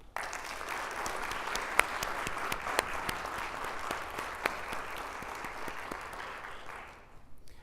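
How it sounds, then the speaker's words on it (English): Audience applause for a school district's band, choir and students at a State of the Schools event, steady dense clapping filling the room for about seven seconds before tapering off at the end. "I would like to start by a round of applause for the band, the choir,"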